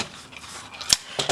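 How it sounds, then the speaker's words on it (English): Scissors snip through paper for a 6x6 mini album page, a few quiet crisp cuts near the end, close by against a soft room background. "So I'm going to cut this out."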